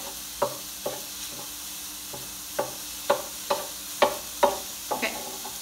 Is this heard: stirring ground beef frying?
yes